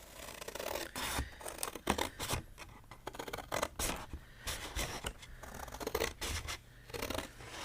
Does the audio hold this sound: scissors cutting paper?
yes